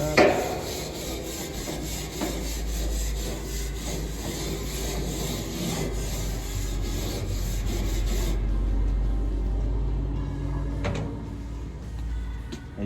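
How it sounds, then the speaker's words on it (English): A brush scrubs a grill grate in steady, continuous rasping strokes, close and fairly loud, then softens and thins out toward the end. "Give it a quick little scrub."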